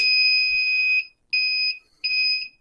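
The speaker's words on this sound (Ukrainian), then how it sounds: "Показує світлова індикація і зумер пищить." An inverter's buzzer beeps as the external mains phase returns, three loud, clean electronic tones, the first about a second long and the next two shorter, separated by brief gaps, with no talk.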